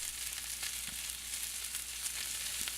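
Mushrooms and broccoli frying in butter with salt and pepper in a pan, giving a steady, even sizzle with faint crackles throughout, no voices.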